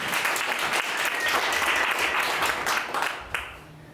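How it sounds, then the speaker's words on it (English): An improv show audience breaks into a round of applause for a family, with a thick, sustained wash of clapping that holds strong before thinning and tapering off near the end. "Now let's give the Jacksons a round of applause"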